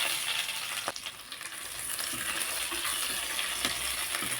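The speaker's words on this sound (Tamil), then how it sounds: "கடுகு பொறிஞ்சு வருது வெங்காயம் பச்சை மிளகா வர மிளகா ரெண்டு சேர்த்துக்கலாம்" Mustard seeds spluttering in hot oil with onion and green and dried red chillies make a continuous hissing sizzle, broken by a couple of sharp pops and some stirring scrapes, at moderate loudness with no talking.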